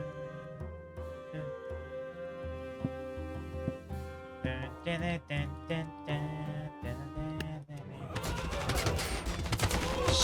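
Gunfire from shotgun units crackles through a video game battle, a dense fusillade of shots over layered music, building into a continuous loud wash of noise toward the end.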